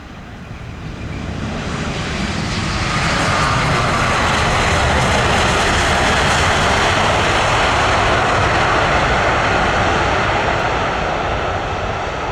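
A Singapore Airlines Airbus A350-900 lands on runway 07 left at Tan Son Nhat airport, its broad, loud jet roar swelling within the first seconds and then holding steady and close for the rest of the pass, with no voices.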